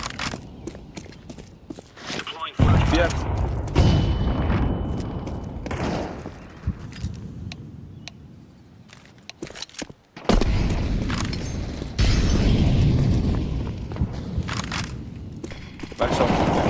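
Counter-Strike 2 ranked match with a grenade blast and incendiary fire bursting loudly and suddenly among crackling gunfire and footsteps; short game voice lines come through between the explosions.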